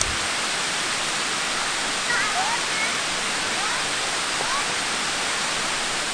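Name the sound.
waterfall rushing water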